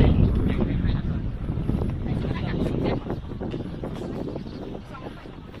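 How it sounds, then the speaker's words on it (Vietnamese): Strong wind gusting around the top of the Lũng Cú flagpole, with a large flag flapping and rumbling continuously up close, people talking underneath. "Nghe thấy tiếng của cái lá cờ nó phật phật phật đúng không?"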